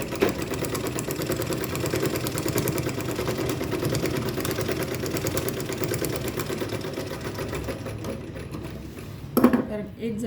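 A sewing machine runs steadily, stitching a double line of stitches on a fabric makeup box, a continuous mechanical whir close by that stops abruptly near the end.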